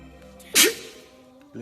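A single abrupt, loud sneeze bursts out close by, a short explosive blast over a quiet indoor background.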